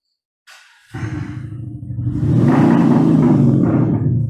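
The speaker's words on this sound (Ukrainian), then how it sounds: "Ми сьогодні встановили цей електронний вихлоп на автомобіль Audi Q5 2020 року за півдня. І тепер він звучить дуже жирно" A 2020 Audi Q5 fitted with a MaxHaust electronic exhaust system starts up with a brief whir, then a deep, loud rumbling engine note that builds and settles into a throaty idle close by.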